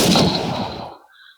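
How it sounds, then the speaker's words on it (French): A single loud M1 Garand rifle shot from a Battlefield mod in Minecraft, a broad boom that decays over about a second into a faint metallic ring. "Le M1 Garand. Qui ressemble vachement à un fusil à pompe."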